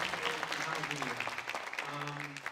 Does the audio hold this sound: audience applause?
yes